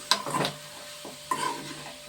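Pieces of food fry in a pan while being stirred, two short scraping bursts with sharp clinks over a low sizzle, close and brief.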